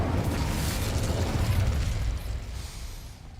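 Incendio fire spell cast in a Hogsmeade video game, a loud, dense whooshing blast that roars steadily for about two seconds and then fades out, alone without talk.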